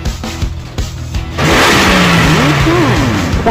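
A car engine in a video game roars to life after a quieter opening and revs loudly with rising and falling pitch sweeps, staying close and dominant until the end.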